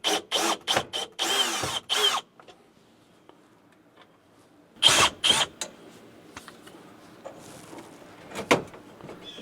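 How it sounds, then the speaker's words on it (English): A power drill backs out square-bit S2 screws from the front of a NuCamp TAG teardrop camper's A/C unit, heard as several short whirring bursts early on, then a few more after a quiet pause, close and fairly loud. "I'm going to start by taking out these two screws on the front."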